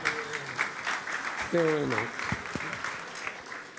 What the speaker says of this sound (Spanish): Recibirnos con aplausos es muy agradable